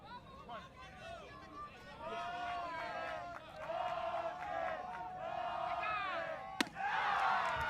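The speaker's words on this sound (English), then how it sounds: "you hear the crowd chanting, Archie, Archie" A crowd at a Senior League baseball game in Easley, South Carolina, chanting the player name Archie in repeated rhythmic bursts, loud and voiced, with a sharp crack near the end and crowd noise swelling after.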